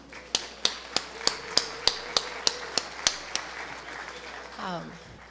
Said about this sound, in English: So please join me in a round of applause thanking our sponsors.